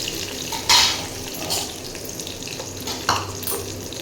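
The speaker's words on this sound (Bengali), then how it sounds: "রসুনটা একটু ভালো করে নাড়বো" Chopped garlic and torn green chillies fry in a pan, a continuous soft sizzle broken by a few sharp scrapes and knocks from stirring, close up and without talk.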